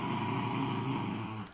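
A dog growls in a low, sustained rumble that holds steady close by, then trails off, with no voices.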